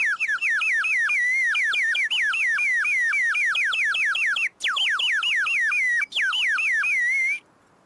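A bird whistle imitates a songbird with a rapid run of bright, warbling chirps repeated steadily for several seconds, broken twice by tiny pauses, loud and close with nothing else heard.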